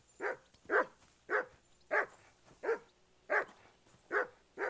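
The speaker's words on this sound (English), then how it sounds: "Hey, call off that dog and then we can talk." A dog in the medieval video game Kingdom Come: Deliverance II barks eight times in a steady, evenly spaced rhythm, each bark loud and close with no talking over it.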